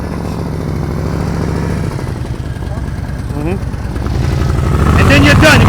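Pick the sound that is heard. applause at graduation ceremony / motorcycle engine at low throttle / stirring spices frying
motorcycle engine at low throttle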